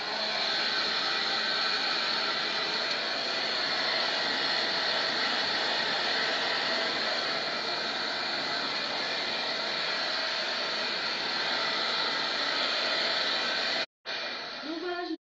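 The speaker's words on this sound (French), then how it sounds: "je vais prendre donc mon sèche-cheveux et je vais les sécher un petit peu en vrac" A hair dryer blows continuously at close range while drying hair, a loud steady whooshing roar that cuts off briefly near the end and then resumes.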